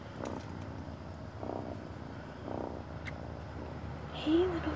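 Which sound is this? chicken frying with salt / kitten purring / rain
kitten purring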